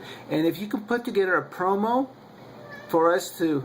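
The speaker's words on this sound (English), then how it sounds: "That's my cat meowing." A cat meows several times in drawn-out, wavering calls close to the microphone, its cries overlapping a person's speech indoors.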